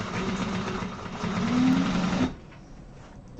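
A sewing machine tacks together the seam allowance on a Cassia satchel, running steadily and fairly loud for about two seconds before stopping, then quiet.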